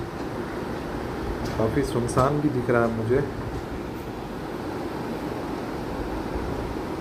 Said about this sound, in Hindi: ट्रेन ने अपनी रफ्तार धीरे धीरे अब पकड़ ली है